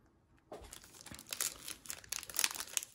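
Topps Allen & Ginter baseball card packs torn open by hand, a crisp crinkling foil rip starting after a brief quiet and continuing as fast, close rustling and tearing.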